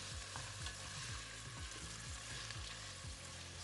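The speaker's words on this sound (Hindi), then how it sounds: "सो अनियंस को थोड़ा हम स्टर करेंगे and we'll cook it till ये थोड़े सॉफ्ट हो जाए" Onions fry in a pan and are stirred with a spatula, giving a continuous close sizzle broken by regular scraping strokes in a steady rhythm, with no talking.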